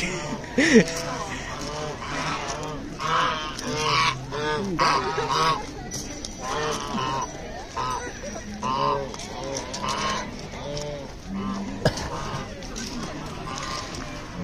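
Geese honking repeatedly at an animal farm with a small park, close and loud, with several overlapping calls and other farm animals nearby, mixed with people talking throughout.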